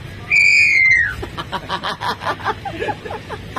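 A vehicle air whistle sounds once, shrill and high, sliding downward, followed by a person chuckling and laughing nearby.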